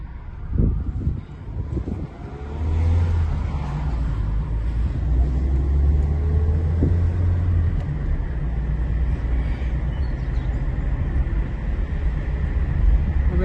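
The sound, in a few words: car driving on road after brake disc replacement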